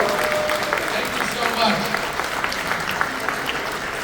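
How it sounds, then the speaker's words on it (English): Audience applause at a horror film Q&A event, a steady loud wash of clapping from a crowd, with some voices mixed in. "Big round of applause for these guys."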